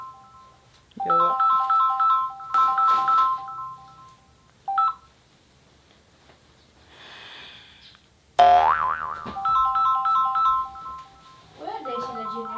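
A mobile phone ringtone plays in repeated electronic tone bursts during a prank call, pausing and then resuming loudly, with people talking around it.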